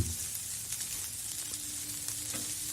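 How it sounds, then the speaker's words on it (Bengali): Mushrooms sautéed in red wine with chopped tomatoes in a pan give a faint, steady sizzle with soft stirring scrapes, close but quiet, and nobody speaks. "এবার এটা আবার ভালো করে নাড়াতে হবে।"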